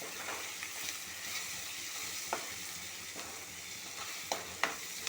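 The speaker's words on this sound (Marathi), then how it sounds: "तर आता हे मिश्रण आपण छान त्याची ढवळून घेऊया" Spoon stirring a red chilli and garam masala spice mixture in a hot pan on high flame, a steady soft sizzle broken by a few sharp scrapes and clinks against the pan.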